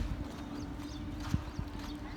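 A mare's hooves clip-clop at a moderate distance, with a few sharper strikes standing out over a steady low hum and background noise.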